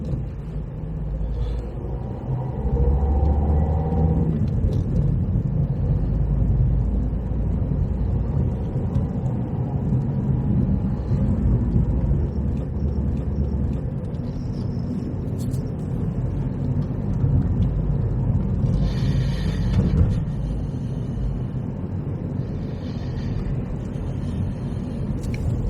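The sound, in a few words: car driving through Folkestone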